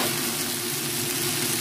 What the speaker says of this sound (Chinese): 我嚟炒翻啲菜